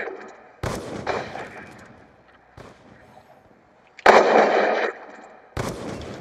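Sniper rifle fire in Call of Duty Black Ops 2 free-for-all, several loud, sharp cracks spaced a second or two apart, one heavier blast ringing out longer, with quiet gaps between.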